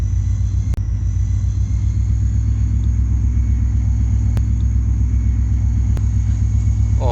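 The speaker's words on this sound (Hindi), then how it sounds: "और NLC की एक्सेलेरेशन साउंड में सुन सकते हैं।" A freight locomotive at a railway station throbs with a loud, steady low diesel rumble as it pulls away, its engine note holding constant with a few sharp clicks over it.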